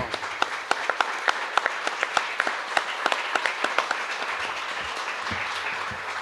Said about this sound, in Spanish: creo que tenemos que darle un aplauso a nuestros dos invitados